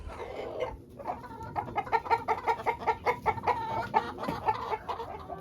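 Several chickens cluck in a steady, rhythmic patter close by inside a coop, a soft chorus of short repeated calls with no talking.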